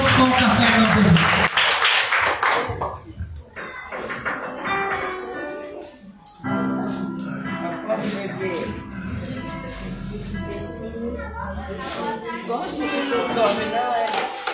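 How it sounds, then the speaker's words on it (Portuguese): A church congregation applauds at the close of a service, with dense clapping for the first few seconds, then fading under music and voices for the rest. "Aplauda ao Senhor"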